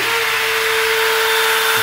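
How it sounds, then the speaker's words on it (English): A WorkBee CNC router spindle runs after being switched on from the pendant, giving a steady, loud, close high-pitched whine with a constant tone and no pauses. "I can actually turn my router on right from the pendant"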